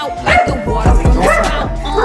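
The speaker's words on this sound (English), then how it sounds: "There we go, the guard dog's back." A guard dog barks, yips and whimpers up close in short, loud bursts, with some speech-like sound mixed in.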